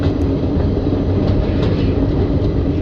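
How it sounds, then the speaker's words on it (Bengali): The Malda-Howrah Intercity Express crosses the Ajay river with a loud, continuous low rumble and rattle of wheels and carriages, heard from on board throughout. "ট্রেন অজয় নদী পার করছে"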